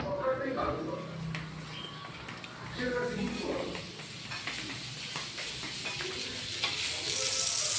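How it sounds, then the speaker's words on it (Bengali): Sweet potato pitha (mishti alur puli) frying in a wok, with a steady sizzle and hiss of hot oil running throughout, with occasional stirring clinks and speech over it. "কড়াইতেও ফ্রাই হচ্ছে, এয়ার ফ্রায়ারে ফ্রাইটা হয়ে গেছে।"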